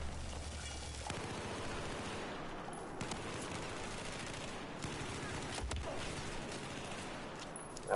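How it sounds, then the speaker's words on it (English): A quiet, dense gunfight in a Battlefield video game, with overlapping rapid gunfire and scattered sharp shots rattling continuously throughout. "I don't know what that gun fight was, to be honest"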